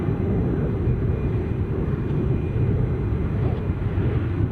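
Ryanair Boeing 737 Max 8 airliner at Edinburgh airport, a steady, loud low-frequency jet rumble that holds constant throughout with no distinct events.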